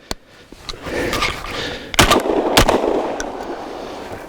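A Panzer Arms M4 semi-automatic shotgun fires a sharp opening shot, then two loud, booming shots close together about half a second apart, each ringing out against a noisy outdoor background.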